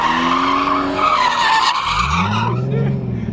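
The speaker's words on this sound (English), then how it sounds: "Is he cooking the clutch?" A Nissan 370Z fitted with an angle kit drifts with a loud, sustained tire squeal and wavering pitch, engine note dropping at the end, close by.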